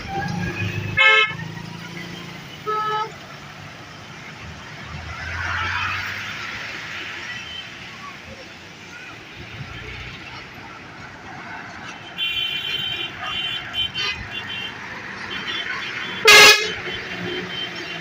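Traffic on a busy national highway motorway in Pakistan, with cars and trucks passing and overtaking, repeated car horn toots near and far, a steady road rumble, and a sharp loud honk near the end.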